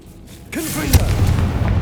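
A Confringo explosion spell is cast in Hogwarts Legacy, producing a sudden booming blast with a sharp burst near the middle, followed by a sustained rumbling roar that carries loudly to the end.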